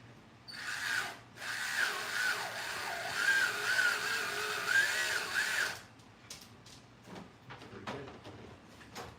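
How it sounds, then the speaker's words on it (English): A high-end tire truer spins and grinds a used slot car tire, giving a steady, loud whirring abrasive whine for several seconds before cutting off, followed by quieter clicks and handling sounds. "I got the high-end tire truer."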